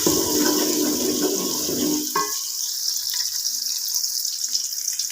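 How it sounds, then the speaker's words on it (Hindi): Sliced onions sizzling in hot oil in a home kitchen, a steady bright hiss that follows a louder splashy burst as they go into the pan. "अब मैं इसमें डालती हूँ प्याज, और इसको करती हूँ लाइट ब्राउन"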